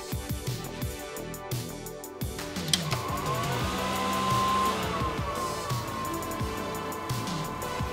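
An old, dust-caked heatsink fan from a 2000 Dell PowerEdge 6400 server runs with a loud, uneven whirring and rattling, its pitch wavering throughout.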